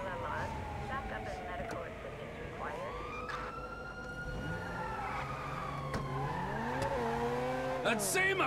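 A fast car races through GTA V city streets, its engine whining and shifting pitch continuously, while sirens wail in the background and a voice talks over the driving throughout.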